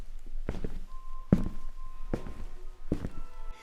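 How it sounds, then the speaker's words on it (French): Four slow, deliberate footsteps land one at a time with even gaps, near and distinct against a quiet background. "il a comme entendu des bruits de pas"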